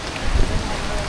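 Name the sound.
rain falling at the zoo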